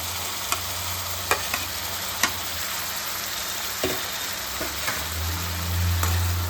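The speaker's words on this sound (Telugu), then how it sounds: "దాన్ని ఒక 2 ఉల్లిపాయలు చిన్న చిన్న ముక్కలు కింద కట్ చేసుకుని వేపుకుంటున్నానండి" Finely chopped onions fry in a pan for a spicy murrel fish masala curry, giving a steady close sizzle broken by occasional sharp clicks of stirring against the pan.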